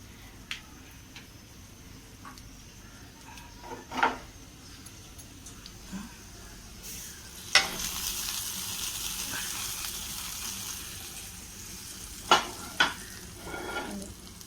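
Ingredients for rice payasam frying in a pan, a soft continuous sizzle with occasional stirring scrapes and clinks of a spoon against the pan.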